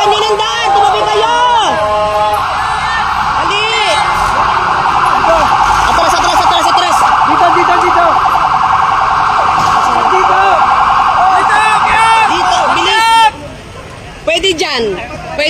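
A fire truck siren wails continuously as the engine arrives at a residential fire in Taguig City, loud and close with steady rising-falling sweeps, while an excited crowd talks and shouts throughout until the siren cuts off near the end.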